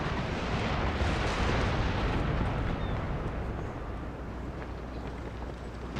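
Rocket barrage in Empire: Total War, a dense continuous rumble of blasts and crackling impacts that stays loud and steady without a break.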